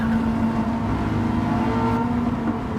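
A car in a racing video game, fitted with a racing air filter and exhaust, holds a steady, loud engine drone with a constant tone and no speech over it.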